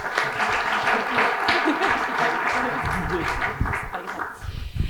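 An audience at a conference on accessible, quality housing gives a burst of applause. The clapping sounds moderately loud and continuous, with a busy crowd texture that thins toward the end.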